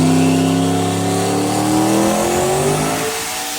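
A turbocharged 5.3 V8 Mustang making over 1100 hp roars through a dyno pull, loud and close, its engine note rising steadily in pitch as it revs, then easing off near the end.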